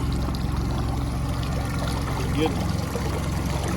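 The telltale water stream from a Mercury 9.9 outboard motor trickles and splashes steadily beside a running boat engine, with a voice speaking over it.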